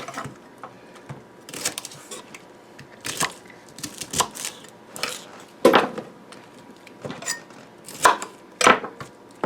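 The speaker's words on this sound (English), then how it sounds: "So as I slice them here, we're going to throw them in." A knife slices through Brussels sprouts on a board for a slow-cooker corned beef dish, giving a run of crisp, close chopping thumps in uneven bursts with short pauses, and no talking.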